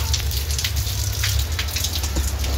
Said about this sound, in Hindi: अच्छा नहीं लगता, पूरा पानी एकदम गिरने लगा है।